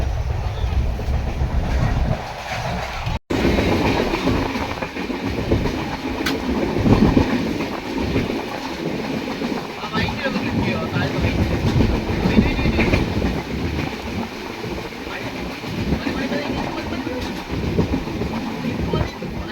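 A passenger train heading to Pune rolls along the rails with a loud, continuous rumble from inside a coach, rhythmic clickety-clack of the wheels running through it and one sharp knock partway.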